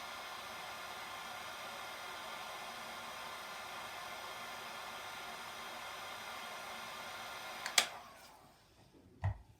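A heat gun or hairdryer blows steadily at close range, drying alcohol ink in a broad, even hiss, then clicks off near the end with a couple of brief knocks.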